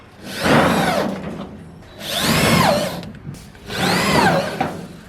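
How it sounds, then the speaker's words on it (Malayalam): A power drill drives self-tapping screws through a metal roofing sheet on a wooden chicken cage, giving three loud whining bursts with rising and falling pitch, close by and alone, with pauses between each screw. "ഈ ഷീറ്റ് ഇതിൻ്റെ മേൽ ഷെൽഫ് സ്ക്രൂ ഉപയോഗിച്ചുകൊണ്ടാണ് ഞാൻ ഫിറ്റ് ചെയ്യുന്നത്"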